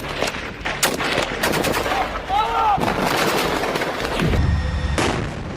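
Gunfire in Gaza, with rapid bursts of shots and heavier booms crackling over a busy, noisy background, interspersed with a brief whistling tone and other sounds; the fire is loud and repeated.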